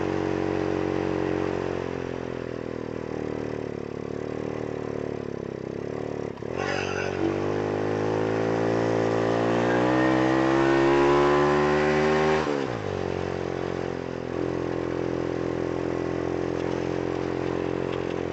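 A motorcycle engine labouring uphill on a road in Valencia, Negros Oriental, drones loud and close, its pitch climbing steadily as it strains, then dropping abruptly and settling again.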